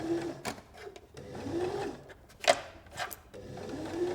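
A sewing machine stitches around the fabric paw pad of a soft toy in short, uneven bursts of whirring needle runs with pauses and small clunks between, close up and with no talk.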